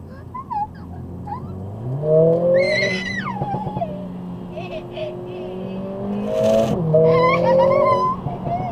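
A modified Mercedes CLA45s with a loud aftermarket exhaust revs and accelerates hard in Sport Plus, its engine note rising and falling through several pulls close by, with tyre noise and brief talk over the top.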